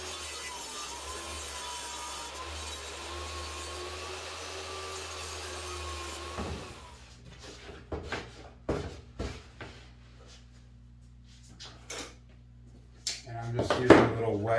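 A saw cuts through wood for a home-built craps table, holding a steady, close whine for about six seconds before stopping; scattered knocks and clatter follow, and a person talks afterward.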